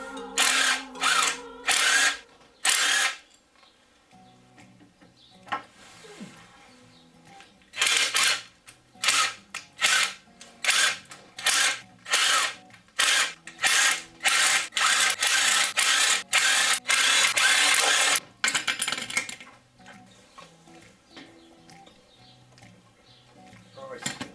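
A power tool removes the flywheel from a VR6 engine during a timing chain job, firing in sharp repeated bursts of rattling impact whirring close by, with short pauses between them and one long sustained run.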